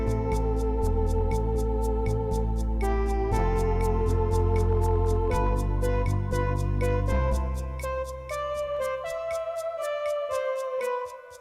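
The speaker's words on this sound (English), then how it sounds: "When you play the no chord, the drums keep going to keep you accountable." Lowrey home organ playing a song with a steady rhythm-unit drum pattern ticking evenly throughout, sustained chords and melody giving way near the end to the drums carrying on over a thinner held line; close and loud, no voices.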